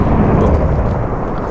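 A Minecraft Cyan Swords mod Thunder Sword fires a fire charge that is met by a lightning strike: a loud, dense, roaring rumble sustained throughout, close and heavy, with no pauses.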